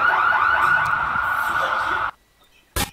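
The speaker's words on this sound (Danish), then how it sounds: "De utløste alarmen" An alarm blares continuously at close range for about two seconds, then cuts off abruptly, followed by near-silence and a short loud burst at the end.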